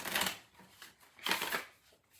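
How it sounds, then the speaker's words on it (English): A stiff, hard-to-shuffle tarot deck is shuffled once, giving soft papery riffling bursts, close and quiet, with no voices. "I'm just going to shuffle it once to show you that I'm shuffling the cards"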